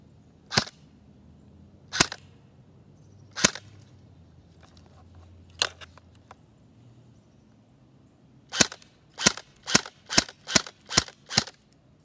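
An LCT AMD65M airsoft rifle fires on semi-auto through a chronograph. Four spaced sharp cracks come first, then a quick string of seven evenly paced shots, all close and loud with quiet gaps between.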